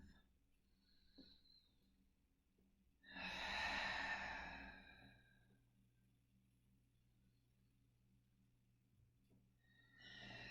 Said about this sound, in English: Here for another 5 rounds of breath.